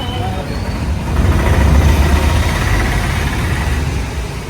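A motorbike engine idles close by with a steady, loud low rumble that swells slightly in the middle and holds throughout.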